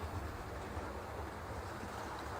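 A model train runs on a home layout with a steady, continuous rumble and rolling clatter, moderately loud and unbroken, with no talking.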